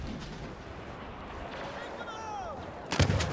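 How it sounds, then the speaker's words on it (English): Rocket fired in the Star Wars Battlefront game: a whistling, descending projectile streak ends in a loud explosive burst at the close, over a constant backdrop of battle noise. "Let's get that smart rocket ready."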